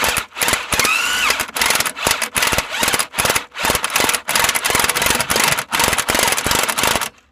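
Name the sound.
grinder shortening Jeep Cherokee XJ U-bolts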